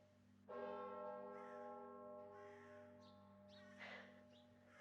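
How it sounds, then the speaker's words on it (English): A single deep church bell strikes and rings on, its long humming tone slowly fading, with faint birdsong chirping in the background. "The bell invites me."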